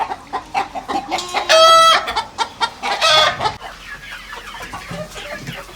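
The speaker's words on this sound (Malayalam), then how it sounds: "കോഴികളാണ് അത്?" Chickens cluck steadily on a dairy farm while a rooster crows loudly and close by, its call rising clearly above the flock's chatter.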